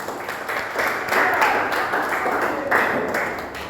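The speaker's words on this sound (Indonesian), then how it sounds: "Beri tepuk tangan untuk." Applause from students in a classroom, a steady patter of many hands clapping with swells and dips over a few seconds.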